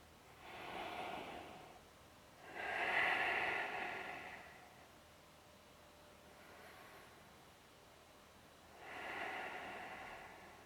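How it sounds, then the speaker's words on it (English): Slow deep breaths during a hatha yoga pose, three long airy inhales or exhales spaced several seconds apart, close but faint, with no talking. "take 3 deep breaths here"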